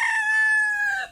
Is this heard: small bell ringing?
no